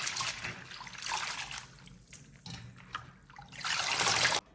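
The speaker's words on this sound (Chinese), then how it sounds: "用清水给它淘洗干净" Tap water running and splashing over sliced pig liver and bean sprouts being rinsed in a bowl, a steady close trickle with brief dips and swells, louder again near the end.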